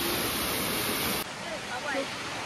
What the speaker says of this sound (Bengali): ওয়াটারফলসটা এটা হচ্ছে রাতমোহনা ওয়াটারফল